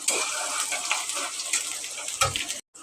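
Chopped onions hit hot oil in a pan while cooking papaya with dal, giving a steady close sizzle with a brief low thump near the end before a short silence.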